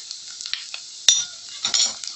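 Garlic cloves fry in a pan with a light sizzle while a utensil scrapes and clinks against the metal in short bursts, close and fairly quiet.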